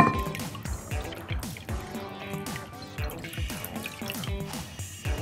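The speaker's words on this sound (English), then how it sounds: "I'm going to pour the water in and see if this works." Water pours and trickles into a dish for a simple drawing-on-water science demonstration, a continuous busy splashing and dripping close to the microphone with faint background noise.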